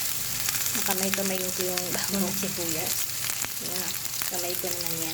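Garlic sizzles steadily in a frying pan for beef broccoli, a dense continuous crackle close by, with someone speaking over it for most of the stretch.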